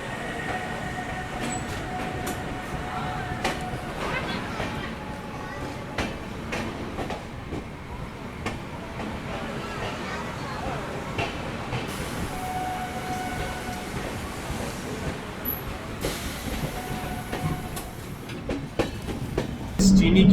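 The Bihar Sampark Kranti passenger train runs at speed: a loud, steady rumble and rattle of carriages over the rails with faint clicks, continuous throughout and with no voices.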